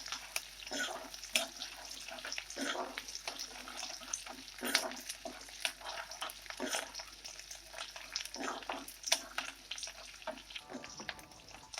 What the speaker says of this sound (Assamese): এতিয়া পিঁয়াজখিনি পূৰা গৰম তেলত দি দিছোঁ, লগতে দুটামান জিৰা গোটা জিৰাও দি দিছোঁ।